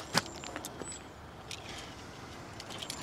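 Keys jangle briefly as they are handed back between two people, a short bright metallic rattle near the start followed by faint scattered clinks over a quiet indoor background.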